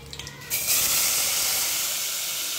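Garlic and turmeric sizzling in a hot pan as a steady, loud hiss that swells after a brief clatter and then holds.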